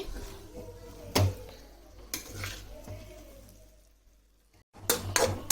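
Rice being stirred into cooked chicken liver in a pot, a few distinct metal spoon knocks and scrapes against the pot with quieter stirring between, close and fairly faint.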